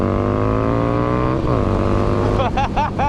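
A Stormtrooper tracker motorcycle with an adapted slip-on exhaust holds a steady high idle, then snaps through several quick, sharp revs, loud and near.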